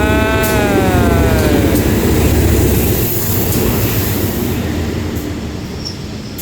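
A train rolls into Bang Sue Junction station in Bangkok, loud and close, rumbling low with a high whining squeal of wheels or brakes that slides downward, then the roar slowly eases as it slows.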